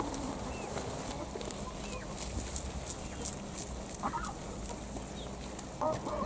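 Backyard chickens fed fresh greenery alongside goats, giving soft, scattered clucks and short calls over a quiet outdoor background, fairly faint and intermittent.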